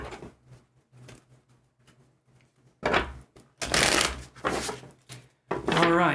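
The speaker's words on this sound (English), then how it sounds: "And one more shuffle here." Tarot cards riffled and shuffled up close, soft flicks at first, then several louder bursts of rapid fluttering.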